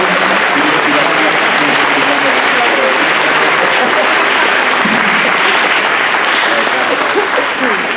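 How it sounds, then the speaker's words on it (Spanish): A seminary lecture audience applauds a priest, the rector of Santo Toribio Seminary, with loud, dense, continuous clapping that carries on unbroken for the whole stretch, with some voices under it. "Un buen aplauso a nuestro padre"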